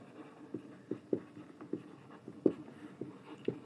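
A pen or marker writes out a cube's volume during a geometry lesson, giving soft, separate scratchy strokes at an irregular rhythm. The strokes are faint and close against a quiet background.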